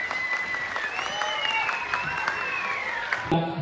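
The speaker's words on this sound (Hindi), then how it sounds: "जोरदार तालियां होनी चाहिए, प्लीज जोरदार।" An audience applauds at a taekwondo prize-giving ceremony, steady clapping throughout with a whistling tone sliding above it, ending in a brief handling noise.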